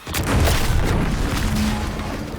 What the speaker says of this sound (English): What's that? An explosion?